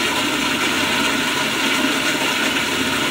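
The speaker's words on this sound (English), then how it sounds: "That's the longest I've ever seen a toilet flush." A malfunctioning toilet flushes on and on without stopping, a steady, loud rush of water that holds at the same level from start to end with no pause.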